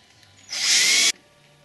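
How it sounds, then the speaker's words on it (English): A power drill bores a hole through aircraft parts on a homebuilt ultralight airframe, a single high-pitched whining burst of about half a second, close and alone in a quiet workshop. "so I'll go ahead and drill them also"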